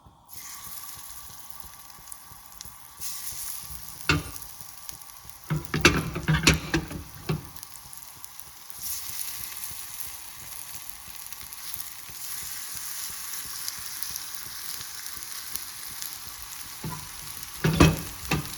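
Tilapia pieces coated in masala frying in hot oil, a steady close sizzle with bursts of louder crackling and spattering as pieces drop in, swelling briefly near the end.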